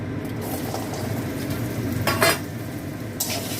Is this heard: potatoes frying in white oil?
yes